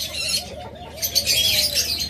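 Caged budgerigars, diamond doves, lovebirds and cockatiels fill the air with soft repeated coos under a dense layer of high chirps and chatter, close by, with some wing flutter.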